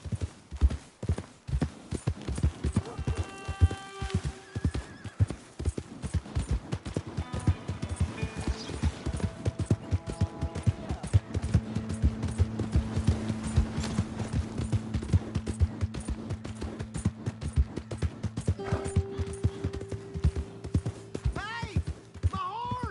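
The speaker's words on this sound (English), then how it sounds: "Hey! My horse!" Horse hooves clip-clopping in Red Dead Redemption 2, a steady rapid rhythm of hoof strikes at a trot or gallop, with game music and a voice calling out over it.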